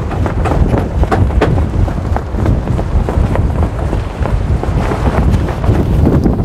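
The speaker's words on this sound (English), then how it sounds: "So it's a very windy day today." Strong gusty wind at Pelican Bar, Parottee, St. Elizabeth, Jamaica, buffets the microphone continuously, a loud, rough roar with rapid fluctuating bursts and no clear voices.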